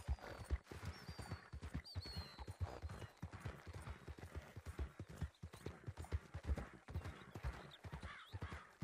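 Rapid clip-clop of a horse's galloping hooves in the video game Red Dead Redemption 2 runs steadily throughout, with a brief whinny-like tone, dense and close, no talking.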